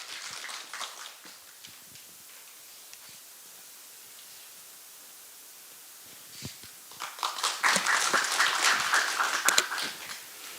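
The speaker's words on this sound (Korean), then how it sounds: "여러분 큰 박수로 함께 환영해 주시면" Applause at a Buddhist press culture awards ceremony, rising from faint scattered claps into a fuller round of clapping toward the end.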